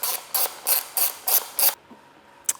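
A ratchet loosens a Torx 30 screw on a KTM Duke 890 motorcycle: six quick, close clicking bursts in an even rhythm, then a pause and one last click, with no talking.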